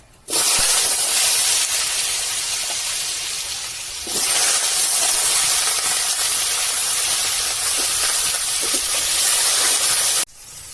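Raw mango pieces drop into hot oil in a wok already holding chillies and mustard seeds, setting off a loud, sudden sizzle that roars steadily, eases briefly, surges again and then cuts off.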